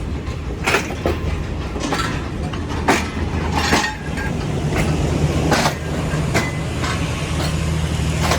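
A Pakistan Railways Karachi Express train hauled by a German Tiger locomotive rolls past, with a steady low engine drone and repeated clickety-clack wheel clatter over the rails, close and loud throughout.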